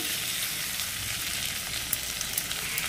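Shrimp and ginger sizzle in a pan while being stirred, a steady loud crackling fry with small scraping clicks near the end.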